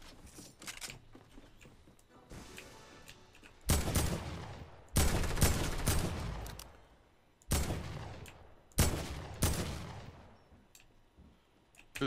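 Bursts of gunfire in Fortnite, several sharp volleys arriving in clusters with decaying tails and quiet gaps between, moderately distant and fairly faint.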